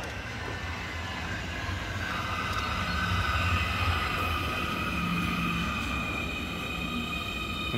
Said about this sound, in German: jetzt kommen wieder dann die neue U-Bahn